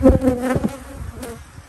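Angry honey bees swarm around an apiary hive, a dense, close buzzing that swells loudly at first and then settles into a steady, slightly fainter drone.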